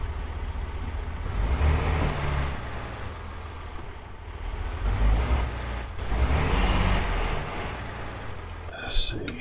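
A truck engine in a video game rumbles and revs in waves, rising and falling over several seconds, with a voice talking over it.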